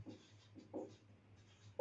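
Faint marker strokes scratch across a board in short, scattered bursts, soft and close in an otherwise quiet room.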